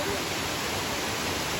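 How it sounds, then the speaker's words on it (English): Steady, full roar of a waterfall heard from its top, a dense unbroken rush of water that stays loud and even throughout, with no other sounds standing out. "we're at the top of the waterfall"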